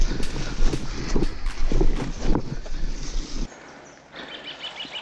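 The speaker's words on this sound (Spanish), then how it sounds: "el ruido de la cascada esa" Steady broadband rushing of a waterfall roars loudly for a few seconds, then drops away abruptly to a much quieter, thinner flow.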